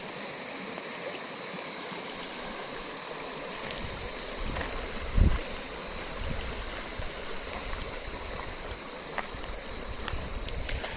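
Steady broadband rush of flowing water, like a stream, at night in an off-road area, continuous throughout with a faint insect-like hum and a brief low thump midway.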